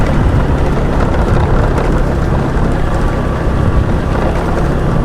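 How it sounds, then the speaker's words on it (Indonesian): Cold wind gusting across a hillside at the foot of a mountain, a loud, constant roaring rush buffeting the microphone throughout with no voices. "Angin semeliwir dingin baraya duh."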